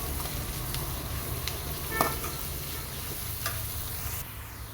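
Chopped ivy gourd vines go into a hot pan and fry with a continuous low sizzle, with occasional light clicks and stirring scrapes close by.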